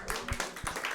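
Scattered audience clapping at a stand-up comedy show, a sparse patter of hands with no voices over it.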